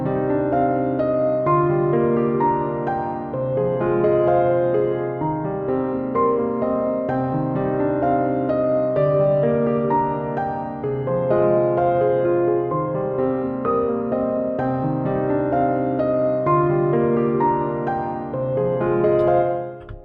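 Realistic piano arrangement with a melody and counter melody over a left-hand part, playing continuously at steady volume with sustained chords and moving lines, no voices.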